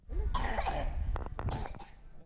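A person with allergies coughs harshly several times in a row, close up, with rough throaty bursts and a brief pause between fits.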